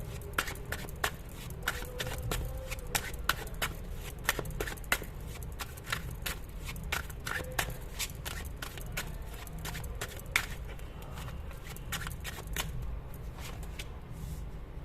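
A tarot card deck being shuffled by hand, a dense run of quick papery riffles and snaps close by, steady and continuous with no talking.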